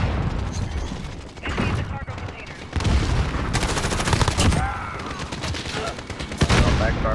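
Shotgun firing in a video game, rapid repeated gunshot blasts and mechanical clatter in dense bursts, loud and close, with talking mixed in.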